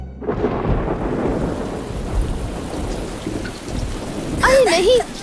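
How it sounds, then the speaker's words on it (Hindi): Heavy rain pours steadily in an anime sound effect while deep thunder rumbles beneath it, loud and close throughout, and a short warbling tone rises near the end. "अरे नहीं, यहाँ तो बारिश शुरू हो गई।"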